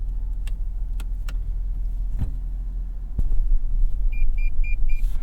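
Inside a moving 2025 Toyota Tundra TRD Rally on a dirt road, a steady low cab rumble carries a run of four short, evenly spaced electronic parking-sensor beeps near the end.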